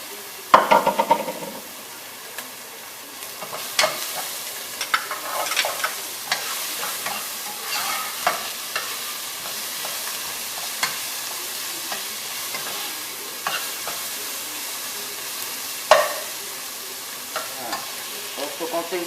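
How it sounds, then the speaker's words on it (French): Shallots, garlic, ginger and carrots sweating in a pan, a steady soft sizzle under scattered wooden-spoon knocks and scrapes of stirring, close up with no talk. "maintenant je vais faire revenir les échalotes, l'ail, Le gingembre."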